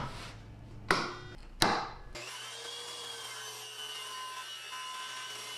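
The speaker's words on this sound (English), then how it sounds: "I'm just going to use a circular saw and a straight edge to make this final cut" A circular saw guided along a straight edge through a plywood back panel in a small woodworking shop gives two sharp knocks, then spins up into a steady, loud, high-pitched whine that holds to the end.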